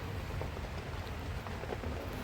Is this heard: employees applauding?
no